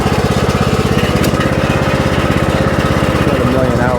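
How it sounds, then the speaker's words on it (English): A tractor bought in 2009 runs close and loud, its engine chugging in a rapid, steady pulsing rhythm throughout, with a voice speaking over the engine noise. "this tractor's been a good tractor."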